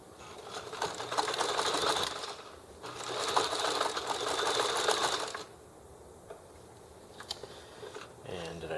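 Domestic sewing machine stitching through the thick top edge of a waistband, running in two loud steady bursts of rapid whirring stitches, then stopping to a quiet pause with faint clicks.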